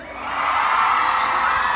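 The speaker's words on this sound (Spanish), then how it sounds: "yo sí quiero escuchar un grito de las mujeres más hermosas de México, de Pátzcuaro" A crowd of women at a festive Three Kings' Day event in Pátzcuaro, Michoacán, shouting and cheering together in a loud, sustained roar that swells quickly and holds steady.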